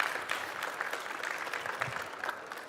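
Audience applauding on an industry stage at the Formnext trade fair, a steady wash of clapping that holds evenly for the whole stretch with no talk over it.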